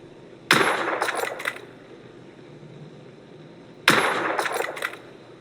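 Two sharp blasts roughly three seconds apart, each with a bright cracking onset and a brief rattling tail, from a recoiling firearm in The Order: 1886, loud and alone with no talk.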